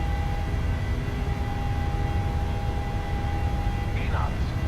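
PMDG 737-700 jet engines at takeoff power in Microsoft Flight Simulator produce a steady, loud, continuous roar with a faint whine, sustained evenly throughout.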